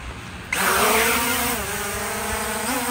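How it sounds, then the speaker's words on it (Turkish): A small drone's motors spin up abruptly from quiet into a steady, loud whirring whine with rising then settling pitch, holding a constant buzzing drone close by. "her iki tuşla aşağı sola çektiğimiz zaman drone çalışmaya başlayacak"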